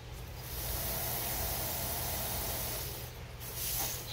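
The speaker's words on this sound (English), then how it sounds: "we should be able to see it spray." Carb cleaner sprays through a Triumph Daytona 675 fuel injector with the plunger held open, giving a soft, steady hiss that swells and fades over a few seconds, faint and close with no talking.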